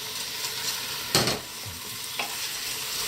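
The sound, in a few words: stir-frying crabs and shrimps for monkfish suquet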